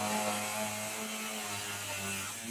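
Power tool cutting off a bed bolt on a 1962 pickup, a steady continuous whine with a droning buzz, close and loud throughout.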